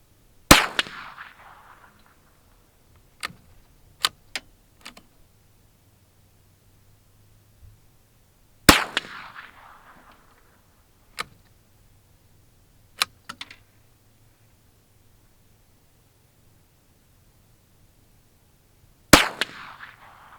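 An old Savage .22 rifle fires old ammunition at a 50-yard target. Three sharp, loud cracks, each with a short fading tail, come several seconds apart, with softer clicks and mechanical handling noises in between.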